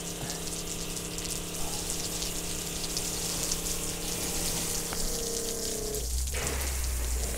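A high-flow soft wash spray gun on a 24V skid pushes water through a hose in a steady, close hissing gush that runs without a break. A low pump hum sits beneath it, and no one speaks.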